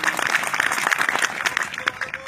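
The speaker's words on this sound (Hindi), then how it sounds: "तालियां" Dense, lively applause from an audience at a Hindi poetry recital, rapid overlapping claps filling the whole moment at close range.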